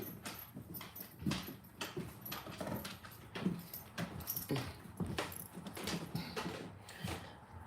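A dog whimpers in soft, repeated whines with shuffling and jangling movement nearby, faint and close, no talking.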